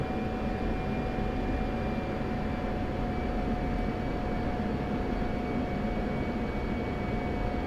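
Aircraft engine in the DCS flight simulator during a formation landing, a constant steady drone with a sustained tonal whine, unchanging throughout and with no voices.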